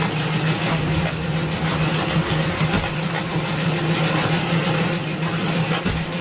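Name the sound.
JCB excavator engine running after starting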